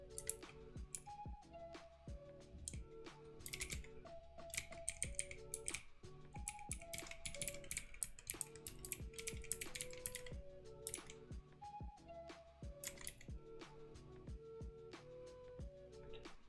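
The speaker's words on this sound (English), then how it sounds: "I'm dying because my keyboard has the wrong kinds of switches." Steady, brisk clacking of a mechanical keyboard with red switches typing close up, continuous irregular keystrokes throughout, with a faint musical tone underneath and no talking.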